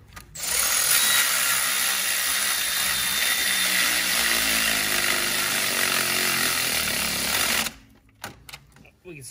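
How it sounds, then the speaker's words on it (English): A power tool driving bolts during a 2010-2015 Toyota Prius engine replacement whirs loudly and steadily for several seconds, then stops, leaving a few faint clanks and handling noises. "Now I can get my power tool and make sure it's locked in."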